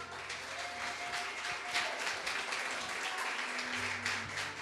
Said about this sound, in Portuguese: E uma salva de palmas ao Senhor, amém?